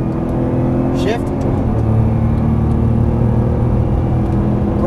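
A Nissan GT-R engine accelerates on a race track, a loud, close, steady drone rising in pitch as the throttle opens, with a voice speaking over it.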